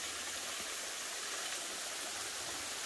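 The Jaliyari waterfall gives off a steady, dense rush of falling water, an even hiss with no pauses and no voices over it.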